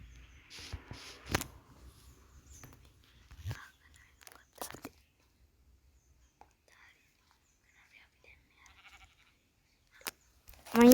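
Sheep bleating in the Minecraft video game, a few short bleats, faint and scattered among quiet blocky game sounds, with another bleat near the end.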